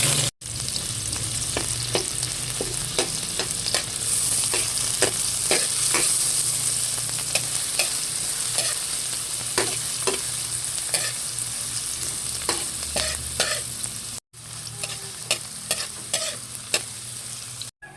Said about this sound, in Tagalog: Ilalagay ko na po yung bawang at sibuyas